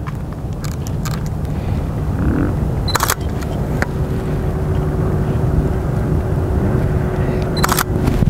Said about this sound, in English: That whole time I'm depressing the shutter button.